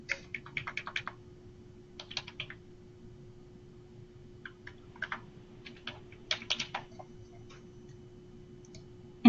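Typing on a computer keyboard at a desk, entering a supplier ID: short bursts of crisp, close key clicks separated by pauses, over a low steady hum, ending in one louder click.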